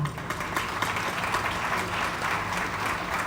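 An audience at an awards ceremony honouring business leaders applauds, a dense, sustained wash of clapping from many hands, moderately loud and continuous throughout.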